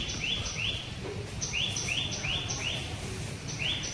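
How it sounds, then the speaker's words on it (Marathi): Sparrows near a temple give repeated short chirps, rising in quick bursts at a fairly steady rhythm over a constant outdoor hiss, moderately near with no talking. "आणि इथे बघा तुम्ही चिमण्यांचा आवाज ऐकू शकता."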